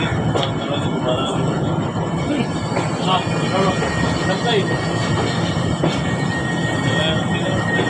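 Sir Syed Express train rolling on rails, a steady, loud rumble and clatter of wheels with faint squeals, continuous throughout, with people talking over it.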